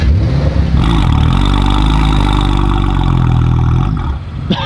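Nissan Skyline GT-R engine held against its soft limiter, a loud, close, sustained high-rev drone that stutters and cuts out at the end.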